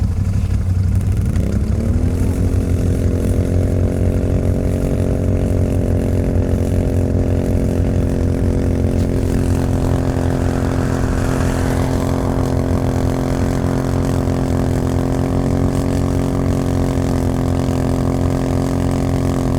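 A loud engine roars steadily close by, its pitch climbing sharply in the first seconds and then held high at sustained revs.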